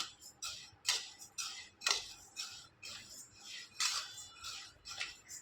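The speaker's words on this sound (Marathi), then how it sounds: "हळूहळू हलवायचं असतं उलटणीच्या साह्याने" A spatula scrapes and stirs lentils dry-roasting in a pan for a village-style masala, giving repeated light clinks and scrapes in an uneven rhythm, close and fairly faint, with no talk.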